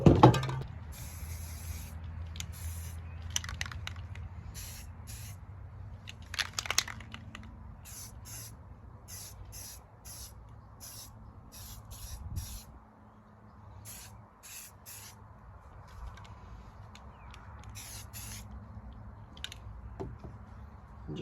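Short bursts of dark brown spray paint hiss from a can onto a gun, about a dozen quick, evenly spaced puffs close by, separated by brief pauses and light handling noises.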